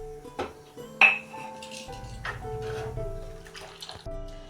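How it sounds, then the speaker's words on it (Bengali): A ladle clinks against the metal pot as it stirs boiling milk tea, giving a few bright taps over a soft bubbling and a low background hum, with no voices. "আমি একটা হাতা নিয়েছি, হাতায় করে নাড়ছি"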